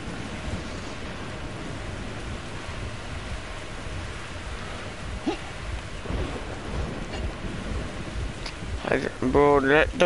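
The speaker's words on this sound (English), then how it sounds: "let the rain end" Steady rain falls in the Metro Exodus video game, a constant soft wash broken by faint rumbles of thunder, with a short tonal sound rising near the end.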